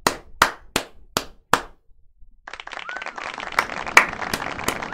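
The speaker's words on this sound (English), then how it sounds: "Let's give Chaney a round of applause" A handful of people clap during a baseball card box break: a few sharp, separate claps, a short pause, then a small, scattered round of applause with a few louder claps standing out.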